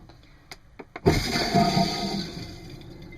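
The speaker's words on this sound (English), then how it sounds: "that's the flush mechanism" A couple of faint clicks, then an RV toilet flush whooshes in loudly and steadily tapers off over a few seconds.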